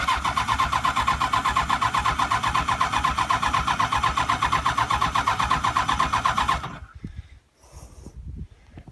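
A motorcycle engine cranks and catches, running with a steady rapid chug for several seconds before cutting out, followed by quieter mechanical knocks.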